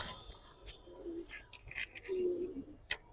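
Double-tagged Giribaz pigeons coo softly twice in a quiet loft, low and mid-distance, among faint rustling and a sharp tap near the end.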